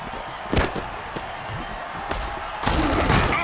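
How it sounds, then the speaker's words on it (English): A hard tackle in the Mutant Football League video game, Blitzburgh Steelheads against Insane Cults, lands as a few heavy, close thuds and slams over a steady crowd roar. "Oh, that's a vicious hit"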